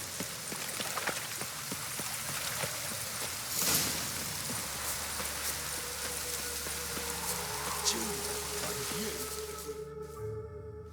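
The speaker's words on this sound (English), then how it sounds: "Witches have conjured rain again." Steady rain falls in The Witcher 3, a dense continuous hiss of drops hitting surfaces, with a few faint brief knocks and shifts mixed in before the wash cuts off near the end.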